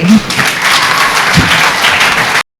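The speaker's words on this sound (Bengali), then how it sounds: "আমি আবারও জোরে করতালি আশা করছি" An audience at a charity foundation's ceremony bursts into loud, dense applause, a steady wash of clapping held for about two seconds before cutting off abruptly.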